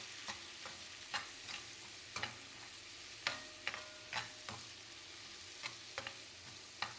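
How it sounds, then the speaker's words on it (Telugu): Tomatoes frying in a pan with a tablespoon of chilli powder, a steady low sizzle broken by sharp stirring scrapes and clicks roughly every half second, close and fairly quiet, with no voices. "టమాటా మీద తొక్క ఊడేంత వరకు కూడా మనం ఫ్రై చేసుకోవాలి"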